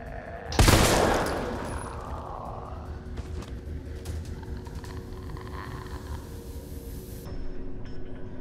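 Magma rounds fired at Nemesis in Resident Evil 3 Remake: one loud, broad blast that rings out and decays over a second, followed by a low rumbling, crackling tail and faint mechanical clatter, with no talk.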